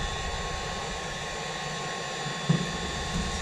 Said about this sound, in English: let's just turn our heat gun on here, and this heat gun will get incredibly hot